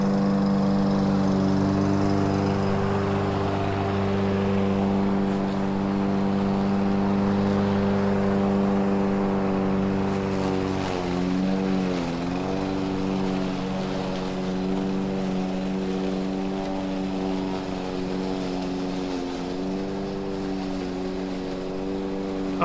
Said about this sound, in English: this lawnmower is really going through this grass by itself.